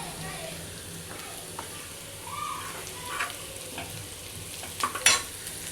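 Onion frying in oil with turmeric for Maharashtrian dal, a steady low sizzle broken by spoon scrapes and stirring clatter against the pan, the loudest ones near the end.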